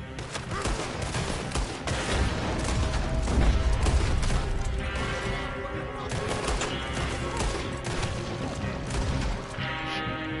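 Gunfire fills a Red Dead Redemption 2 shootout: dense, overlapping volleys of rifle and pistol shots crack continuously across the scene at close range, with occasional crashes and mechanical clatter in a busy, unbroken barrage.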